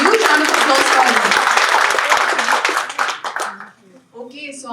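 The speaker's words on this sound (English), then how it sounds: "Huge round of applause for him." A live audience applauds loudly at a financial outlook event after a lucky draw prize is awarded, dense clapping sustained for about three seconds before thinning out and fading, with a voice briefly audible at the end.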